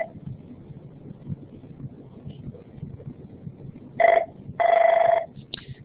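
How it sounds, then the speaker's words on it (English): A phone rings twice near the end of a quiet room recording, with two short buzzy electronic bursts standing out clearly against faint background noise. "Sorry, my phone's ringing."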